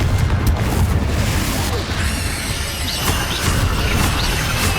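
Confringo blasting spells in Hogwarts Legacy, loud repeated booms and crashing bursts over dense combat noise, with sharp pops and ringing magical tones layered in.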